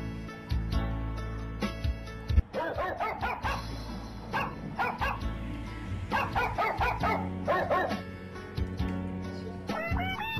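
A golden retriever barks repeatedly at close range indoors, a series of sharp, loud woofs in quick bursts with short pauses between them.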